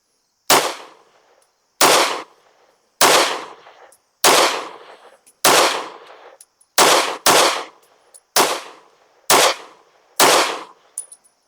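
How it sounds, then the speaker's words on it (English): Anderson Kiger-9C Pro pistol firing CCI Blazer rounds at a target, ten sharp loud shots in a steady paced string with short gaps between each report. "Let's shoot a group with the CCI Blazers at the bottom left target."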